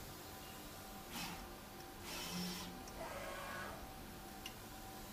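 A China-made automatic SMT solder paste printer for PCBs runs continuously, giving quiet mechanical whirs and brushing sweeps in several short bursts over a steady low machine hum.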